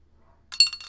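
Dice dropped and rolling on a table during a game: a sudden clattering burst of bright knocks and rattles lasting under half a second after a brief silence, close and fairly loud.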